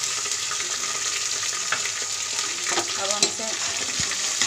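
Sliced green chillies with ginger garlic paste fry in a pan, giving a steady bright sizzle close by, with a few stirring scrapes near the end and a brief voice speaking.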